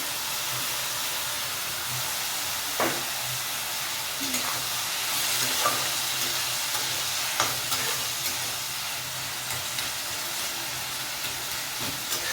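Chopped banana flower frying in a pan, a soft steady sizzle and hiss with occasional light clicks and scrapes of a spatula stirring, fairly quiet and close with no talking.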